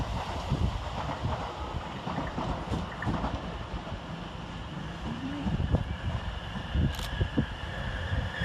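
A train on the Liverpool Street to Shenfield line passing through Bethnal Green station in London, a rumbling roll of wheels and carriages with clattering rail joints and a brief high squeal, heard over wind on the microphone.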